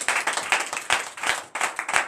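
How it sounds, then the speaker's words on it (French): A church congregation at a Saturday morning prayer service in Benin claps in a fairly steady rhythm, the bright claps coming in quick bursts with a short pause near the middle. "Donne l'acclamation à l'Éternel"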